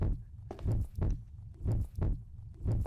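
Loud, pounding heartbeat in a horror first-person shooter, a steady double-thump rhythm repeating about once per second, close and heavy with no voices over it.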